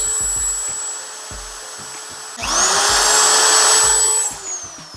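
A 750-watt electric drill running off a 5000Wh portable power station, a loud close whine that rises sharply, holds steady for a couple of seconds, then winds down, with faint clicks before it starts.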